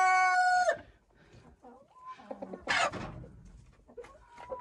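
Chickens and roosters squabble as two unfamiliar males confront each other in a henhouse enclosure: a loud crow opens, followed by scattered clucks and a sharp squawk, close by.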